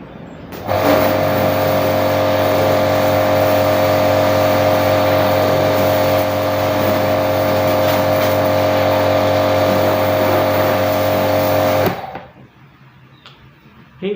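A STARQ ST-25 2100 W pressure washer pre-washes a car, its motor and spray making a loud, steady droning hum for about eleven seconds before cutting off abruptly into quiet.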